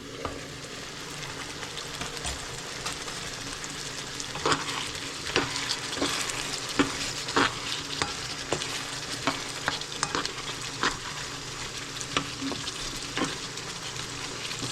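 Sweet and sour chicken breast with chayote cooks in a pan with a soft continuous sizzle and regular spoon taps and scrapes against the pan, fairly quiet and close.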